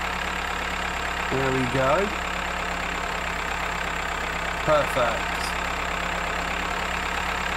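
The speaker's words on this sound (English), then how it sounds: "I'd rather use the mower" A tractor with a mower attachment runs steadily in the farming game Farmer's Life, a constant low engine hum with a faint knock, heard under short bursts of talking.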